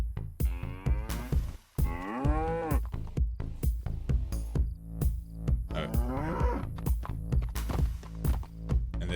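A cow in the video game DayZ moos twice, long drawn-out bellows over strongly rhythmic background music with regular beats, the calls standing out clearly and close.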